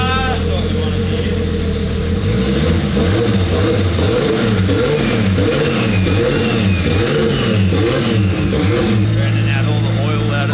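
Nissan R32 drift car's six-cylinder engine runs loud and close, revving up and down in repeated rising and falling sweeps over a steady rough idle, with voices talking over it.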